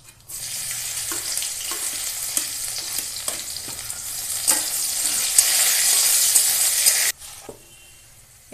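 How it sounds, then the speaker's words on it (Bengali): Chopped garlic sizzles loudly in hot oil in a wok, a constant bright hiss with regular stirring scrapes that cuts off sharply near the end, leaving a quieter tail, with no voices. "রসুন কুচি দিয়ে দেবো"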